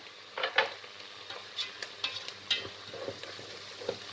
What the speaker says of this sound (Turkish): 200 gram orta yağlı kıymam var. Kıymamı ilave edeceğim.